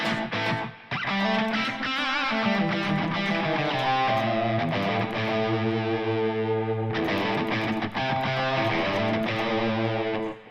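Electric guitar through a TONEX pedal with reverb engaged, a gritty tone playing sustained, ringing chords and notes that fill the space, with one brief gap near the start.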